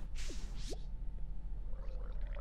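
A Minecraft pufferfish makes two quick swooping, bubbly squeaks, like a gurgling electronic creature cry, over a low steady hum, followed by faint warbling.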